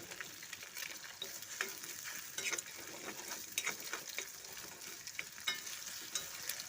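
Egg frying in a pan for Indian-style masala pasta, a steady soft sizzle with occasional crackles and spatula scrapes, close and quiet, no talking.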